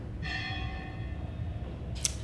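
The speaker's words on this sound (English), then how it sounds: "You hear the bell in the background?" A bell rings once in the distance, its tone lingering and slowly fading, followed by a brief higher metallic chime.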